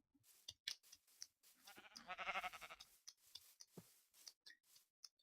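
Sheep in the video game Minecraft bleat once in a short, wavering cry amid sparse clicks and small game sounds, quiet overall, with no talking.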